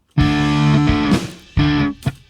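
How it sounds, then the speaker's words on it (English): Two short bursts of distorted electric guitar played through an amp simulator, crunchy chords struck and cut off, with a quick muted scrape between them. "it sounds like this when I now play the guitar"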